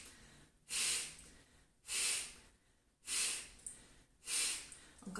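Four strong, forceful exhales puff out through the nose and mouth at a steady pace about a second apart, each a loud breathy rush. Quiet pauses fall between them during a breathing exercise.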